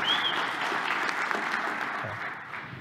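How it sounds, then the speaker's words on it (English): An audience at a tech community conference's opening remarks claps in sustained applause, steady and fairly close, tapering off toward the end with no talk over it. "Again, huge round of applause, please."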